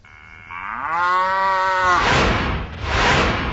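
A cow lets out one long, loud, drawn-out moo close by, which fades into a breathy rushing noise. No one speaks.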